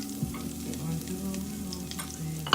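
Minced shallots sweating gently in butter for mussels, a soft low sizzle close by with light stirring, quiet and steady, ending in a brief louder knock.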